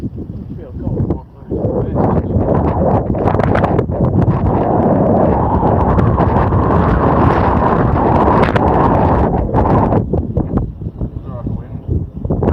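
Strong wind gusting at sea aboard a cod fishing boat on the Mersey, a loud, steady roar of buffeting and rushing air that swells and drops at times, blowing across the microphone.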